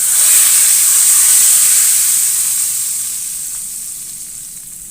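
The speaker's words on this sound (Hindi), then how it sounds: "दाल को लगाएंगे ऊपर से तड़का।" Hot tempering with cloves and dried red chillies sizzles loudly as it hits cooked chana dal, a dense steady hiss that slowly fades over about five seconds, with no talking.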